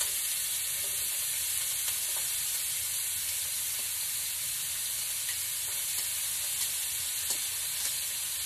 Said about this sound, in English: I'm going to add a onion and a half to our pot to get it browned up